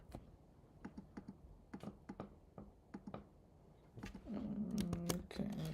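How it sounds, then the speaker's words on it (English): Rapid clicking keystrokes on a computer keyboard, close and fairly quiet, coming in uneven bursts, with a brief low hum joining near the end. "Why can't I type US?"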